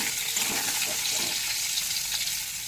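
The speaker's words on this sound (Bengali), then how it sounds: "দিয়ে দিচ্ছি নুন হলুদ গুঁড়ো আর একটু নেড়ে নেব" Mango pieces with salt and turmeric powder being stirred for a sweet-sour-spicy pickle, giving a steady broadband hiss like a faint sizzle with soft scraping strokes, continuous and close throughout.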